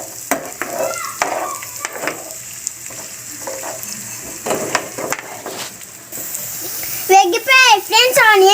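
Onions with green chillies frying in oil for mutton keema curry, a steady close sizzle broken by spoon scrapes and stirring, while a voice talks over it throughout.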